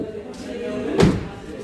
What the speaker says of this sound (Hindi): दरवाज़ा बिल्कुल मेरा अभी लॉक है